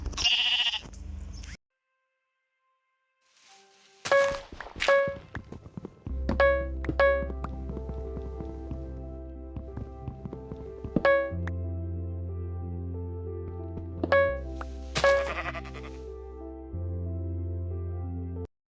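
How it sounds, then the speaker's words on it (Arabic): Minecraft sheep bleat repeatedly in a video game, short wavering cries over steady background game music, with a few clicks and a brief silence early on. "جانا اخر خروف"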